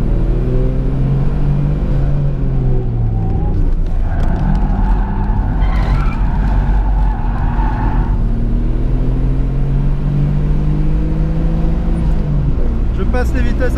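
A car engine revs hard on a warm-up lap, shifting at 7000 rpm, loud and close with rising pitch sweeps between gear changes, under a voice talking.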